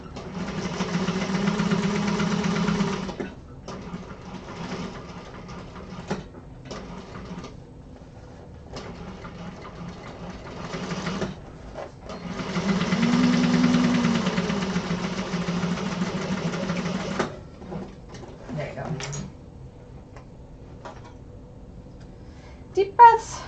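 A sewing machine stitches cotton fabric in two sustained close runs, each a steady motor whir, separated by short pauses with small handling clicks.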